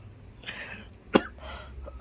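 A single sharp cough stands out clearly, with faint breathy background noise before and after.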